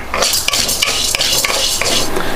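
Chana dal frying in a pan while a spoon stirs it, giving a steady run of close, fairly loud scraping strokes over a soft sizzle, with no talking.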